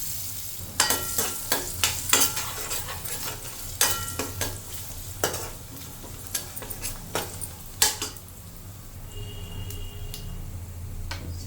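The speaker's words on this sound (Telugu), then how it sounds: "పల్లీలు దోరగా అయ్యేంత వరకు వేయించుకోవాలి." Peanuts fry in a tempering of hot oil, a close, crackling sizzle broken by frequent sharp clicks and scrapes of stirring against the pan, which thin out and fade toward the end.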